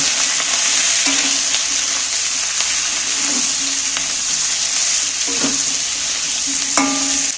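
Chili powder and turmeric frying in hot oil in a pan for a koi fish curry, a steady close sizzle throughout with several soft scraping stirs of a spoon.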